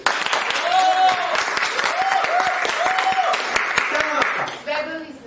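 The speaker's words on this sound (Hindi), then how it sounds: "जोरदार तालियां बजाइए।" Audience at a motivational session breaking into loud, dense applause, sharp claps close by that carry on for several seconds, with talking and vocal tones mixed in, before the applause thins out at the end.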